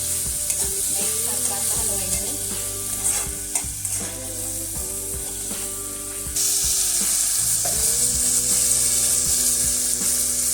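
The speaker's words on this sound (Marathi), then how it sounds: "टोमॅटो टाकूया ह्याला पण चांगलं परतून घ्यायचं आहे" Onion and tomato sautéing in a pan for a prawn masala, a constant close sizzle with frequent clinks and scrapes of a spoon stirring, a faint tonal hum in the background, and a louder hiss in the last few seconds.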